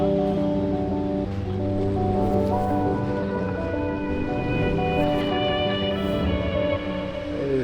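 Ocean waves wash continuously on a local beach in Puerto Rico at sunset, a steady broad surf roar with gentle swells, while faint tonal hums sit underneath.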